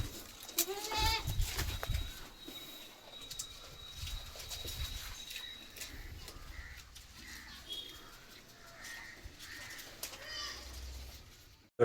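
Several small goats bleat in short, wavering calls at moderate distance, with a faint tone and some rustling in the background.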